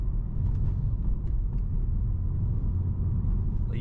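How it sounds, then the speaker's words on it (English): Inside the cabin of a BMW M3 on its stock exhaust while cruising normally, a low, steady engine and road rumble stays quiet and even, with no exhaust note standing out. "look how quiet it is in the cabin if I'm just driving normal"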